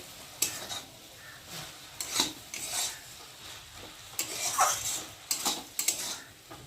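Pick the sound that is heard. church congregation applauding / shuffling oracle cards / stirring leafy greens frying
stirring leafy greens frying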